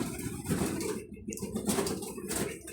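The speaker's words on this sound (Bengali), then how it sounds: "বিভিন্ন ধরনের কবুতর আছে।" Pigeons of several breeds coo and rustle on a pigeon farm, a steady low murmur of overlapping calls with soft flutters, fairly close and continuous with no talk.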